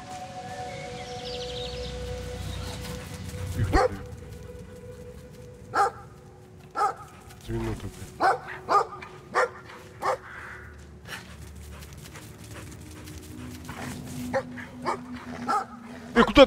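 A bulldog in the game Brothers: A Tale of Two Sons lets out short, separate barks, about a dozen spread over the scene, mid-distance above quiet game ambience, with someone talking at times.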